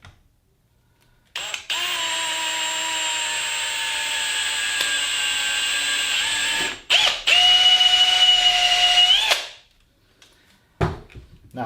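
Two bursts of a drill boring bolt holes into wood for bench vise soft jaws: a long steady whine, a brief stop, then a second higher-pitched run before it cuts out.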